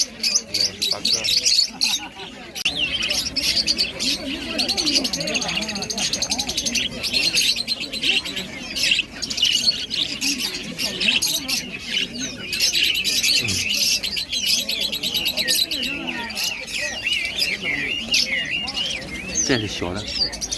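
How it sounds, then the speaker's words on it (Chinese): Myna birds calling among many caged birds at a busy outdoor bird market, a continuous mix of chirps and calls under crowd noise and people talking nearby. "那是八哥"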